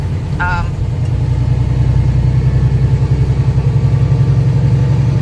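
Loud, steady low rumble of a truck engine idling as heard from the cab with a window open, continuous throughout with a brief faint tone near the start.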